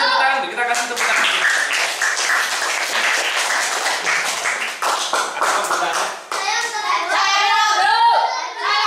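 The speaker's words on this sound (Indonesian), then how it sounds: "kita kasih tepuk tangan" A fifth-grade classroom full of children clapping in a loud, fast patter that goes on for several seconds. Children's voices chatter over the clapping.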